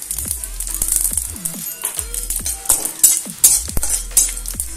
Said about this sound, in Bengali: শুকনো লঙ্কাটা ভেজে নিচ্ছি